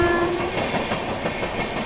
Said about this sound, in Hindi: इस सेक्शन की इकलौती टनल पंचपिपलिया टनल को फिलहाल हम लोग पार कर रहे हैं